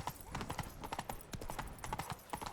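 Roach the horse's hooves clip-clop steadily in The Witcher 3, a brisk, even rhythm of hoofbeats close by, faintly layered with a soft game soundscape.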